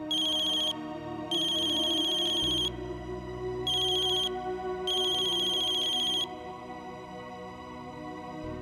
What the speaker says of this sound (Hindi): फहीनी का फोन?